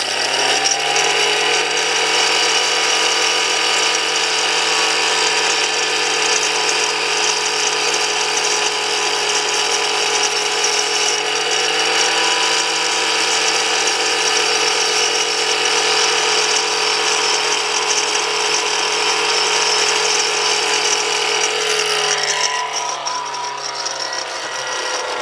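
A power tool grinds a wood chisel into a gouge, a loud continuous mechanical whine and rasp with steady tone held for over twenty seconds before the motor spins down near the end.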